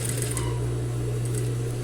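A sewing machine backstitches at the end of a seam while making a small zipper pouch, giving a brief, steady mechanical whir with a low hum, close and alone.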